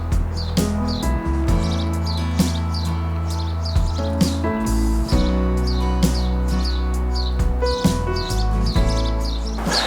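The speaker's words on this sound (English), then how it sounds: "Just behind me here there's some very noisy house sparrows." Several house sparrows chirp busily and repeatedly nearby in a town, overlapping sharp tweets over a low background hum.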